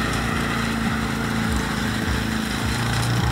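A Husqvarna LC348V lawn mower fitted with a swapped-in Honda engine runs at a steady, even pitch while mowing. The engine drone is loud and close with no talk.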